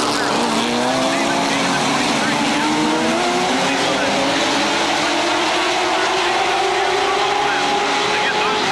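Late model sportsman race cars roll around a track warming their tires in 1985, their engines droning steadily with slowly rising pitch and loud, continuous noise, while an announcer's voice runs underneath.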